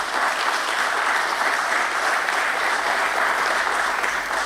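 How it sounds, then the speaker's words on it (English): Loud, dense applause fills a stock exchange listing ceremony at BSE for Adon Agro Commodities Limited, a steady roar of many hands clapping at even strength from start to finish. "a big round of applause to the company for this"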